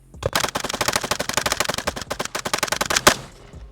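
A Stenzel SAK-21 AK rifle fires a long, rapid string of sharp shots in tight succession, loud and close, with a heavier report near the end before the firing stops.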